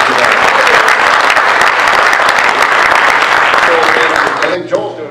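An audience at a business event for a bank chairman and CEO applauds loudly and steadily for about five seconds, the clapping thinning out at the very end.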